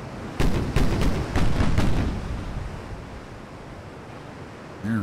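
Heavy naval guns of warships in Ultimate Admiral: Dreadnoughts firing full broadsides: five or six loud booming reports in quick succession, each trailing into a rumbling roar that fades into ambient sea noise.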